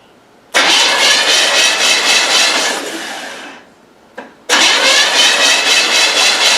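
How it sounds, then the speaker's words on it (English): An old car engine that sat unused for 25 years cranks over loudly with a rapid, rhythmic churning for about three seconds, winds down, then cranks again in a second steady burst without catching. "It at least spins and turns over."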